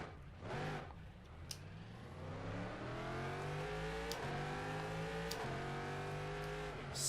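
A race car engine in the rFactor 2 sim revs upward through the gears in a sequence of climbing pitch sweeps, each cut by a short drop at the upshift, loud and close, with tire noise underneath.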